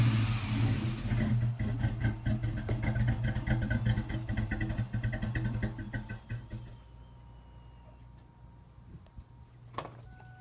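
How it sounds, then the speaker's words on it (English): A Ford Mustang GT engine with newly welded Thrush mufflers rumbles and revs with a deep, throaty exhaust note, then settles and fades to a quieter idle before a brief sharp noise. "got the new mufflers welded on, and we wanted to take it for a spin"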